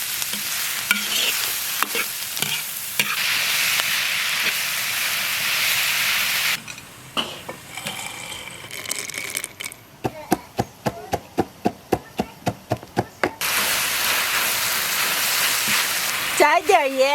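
Garlic, ginger and chili stir-frying in oil in a wok give a loud steady sizzle, broken midway by a run of rhythmic spatula scrapes and taps before the sizzle returns.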